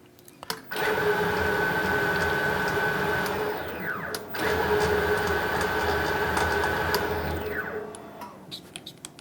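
A metal lathe with an electronic leadscrew whirs and hums steadily while cutting a metric thread, starting after a brief click, dipping briefly midway, then winding down near the end, with no voices.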